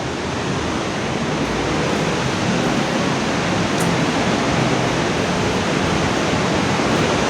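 Unchalli waterfall on the Aghanashini river pours in a loud, unbroken broadband roar of rushing water, steady and close for the whole stretch.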